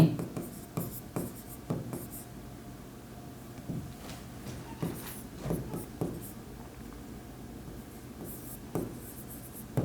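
A pen writes on paper while figures are entered in an accounting exercise, producing a steady scratching with repeated short strokes and taps, heard close up throughout the whole stretch.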